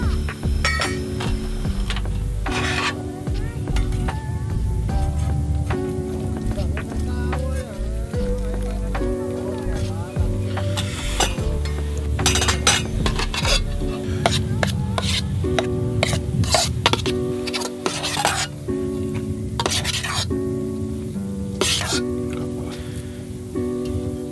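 Fried shallots and garlic stirred in a pan at a mountain campsite, with continuous sizzling, frequent metallic clinks and scraping of a utensil, loud and close, with voices talking over it.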